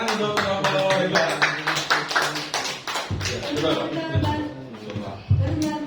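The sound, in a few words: applause for the group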